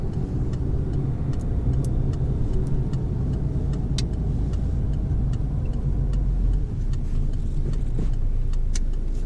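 A car on a French driving-test run rolls into a parking lot, its engine humming steadily from inside the cabin, with road rumble and faint ticking from the indicator.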